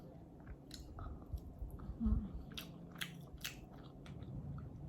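Soft, close chewing of a bite of inexpensive sushi, quiet wet mastication with a brief crunch in the middle, faint and steady with no talking.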